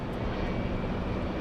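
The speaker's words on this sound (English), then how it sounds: "we're going to call this one the Mighty E175" A steady, loud roar of an Embraer E175 jet airliner at LAX airport, broadband engine noise holding evenly throughout with no speech.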